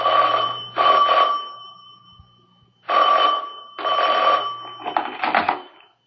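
A telephone rings in a radio drama, with four clear bursts of an old-style bell separated by short pauses, sounding close and distinct with no voices over it.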